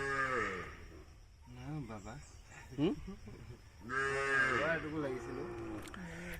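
Cattle mooing in hot weather in a village in Morigaon, Assam, several long, loud, drawn-out moos close by, with a voice talking in the pauses.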